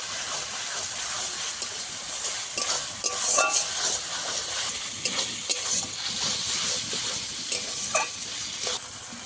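Shol fish curry with peas being stirred and fried in oil, close steady sizzle and hiss with repeated scraping of a spatula against the pan, no voices.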